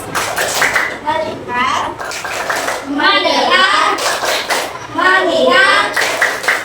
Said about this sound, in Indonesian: Tepuk fokusnya itu begini. Tepuk fokus.